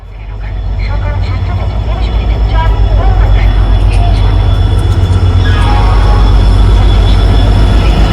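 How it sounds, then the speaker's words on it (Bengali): The Ispat Express train rumbles loudly into Howrah station, steady low-frequency roar of heavy carriages with faint wheel squeal, while people talk nearby. "6টা 30-এ আসার কথা ছিল, আর 7টা 25-এ ট্রেন ঢুকছে ইস্পাত এক্সপ্রেস"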